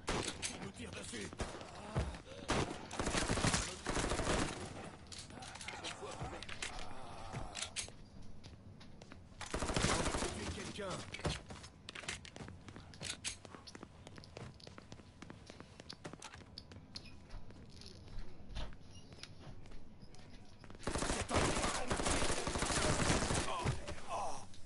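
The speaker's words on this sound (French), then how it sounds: "Il nous tire dessus!" Gunfire from a PS4 shooter game crackles in dense, rapid bursts and volleys at moderate loudness, with players' voices mixed in.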